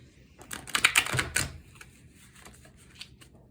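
A quick burst of crisp riffling clicks as a deck of Halloween cards is shuffled close by, followed by a few scattered light taps and soft rustling.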